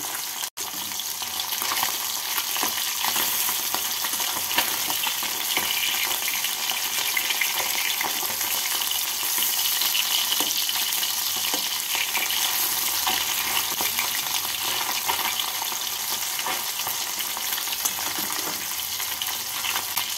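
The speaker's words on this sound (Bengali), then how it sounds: "একদিকটা হালকা লাল হয়ে ভাজা হয়ে গেলে উল্টে আরেক দিকটাকেও হালকা লাল করে ভেজে তুলে নেব" Bata fish pieces frying in hot oil, a steady broadband sizzle and spatter running continuously close by with occasional stirring, no voices.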